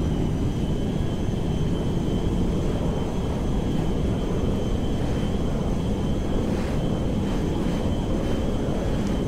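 A military transport airplane in GTA 5 taking off, carrying Army troops, heard as a loud, steady engine roar with a dense low rumble that holds unbroken throughout.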